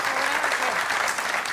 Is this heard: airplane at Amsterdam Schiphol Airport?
no